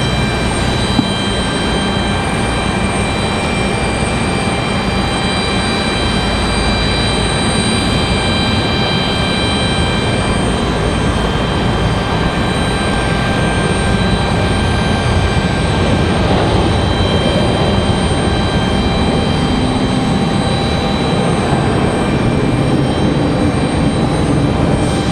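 A United Airlines airliner takes off at Raleigh-Durham International Airport, its engines a loud, steady roar with a constant whine that holds throughout.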